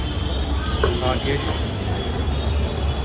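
Steady rumble and whir of a metro train interior, with a constant low drone and faint high whine, some indistinct voices in the background.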